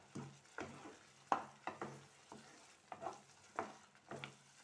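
Spinach for palak gojju is stirred in a pan, with a soft sizzle underneath and about a dozen quiet scraping taps of the spoon in an uneven rhythm; nobody speaks.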